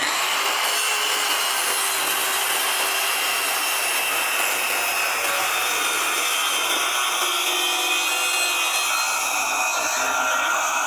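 An APR AP25 Promax circular saw with a 60-tooth blade cuts through multiplex plywood, giving a loud, continuous, high-pitched whining rasp that holds steady throughout.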